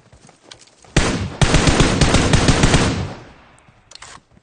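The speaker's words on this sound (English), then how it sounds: "With semi-automatic fire too" Semi-automatic gunfire in the video game PUBG Mobile: a loud, dense burst of rapid shots lasting about two seconds, then fading out, with a couple of faint clicks afterward.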